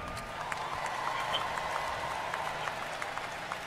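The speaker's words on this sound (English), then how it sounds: "How about a round of applause for both teams tonight?" Stadium crowd at the Orange Bowl applauding both football teams after the game, a fairly quiet, diffuse wash of clapping and crowd noise spread across a large space, with scattered individual claps poking through.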